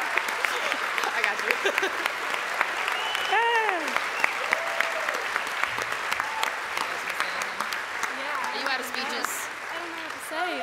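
A crowd at a swimming awards ceremony gives sustained applause for four relay swimmers, the clapping dense and even, while voices and cheers rise over it from time to time.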